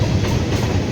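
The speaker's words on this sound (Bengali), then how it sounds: "এই যে ডাউনে ক্যানিং ট্রেন" A down Canning local train rolls past close by in a steady, loud rumble with a low rhythmic clatter of wheels on rail, heard alone for a brief moment at a roadside fish-selling spot.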